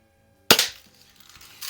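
A first-year production Daisy model 99 BB target rifle fires once at a target, a sharp close crack followed by a brief fading rattle and small clicks, with no voices.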